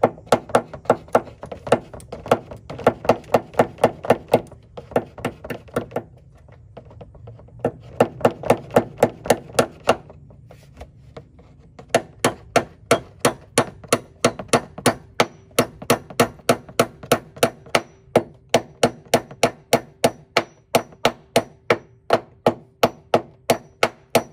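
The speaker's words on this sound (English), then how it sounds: "Got my hammer," Repeated sharp metallic hammer strikes drive a pin out of a Cadillac CTS Coupe during a vertical door kit installation, ringing in quick rhythmic bursts with brief pauses between runs of blows.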